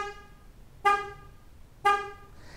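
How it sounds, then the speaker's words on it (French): Two loud, harmonic blasts from a 2012 Chevrolet Sonic car horn sounding for the vehicle locator function, each short honk about a second apart with quiet between. "le klaxon se fera entendre 3 fois et les phares extérieurs clignoteront aussi"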